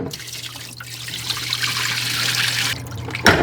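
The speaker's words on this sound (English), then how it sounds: "Rinse them off real good and wash them off like this." Running water trickles and splashes steadily over peppers being rinsed, a close, continuous rinsing sound that cuts off near the end.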